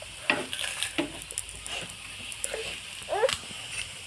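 Prawn tikia patties fry in a pan, giving a faint sizzle broken by scattered light scrapes and clinks of a utensil.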